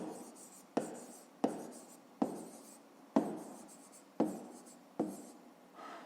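A pen writing out a fifth-grade math solution on paper: six or seven distinct scratchy strokes, each starting with a sharp onset and then fading, spaced at roughly regular intervals and heard up close in a quiet room.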